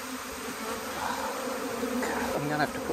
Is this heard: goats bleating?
no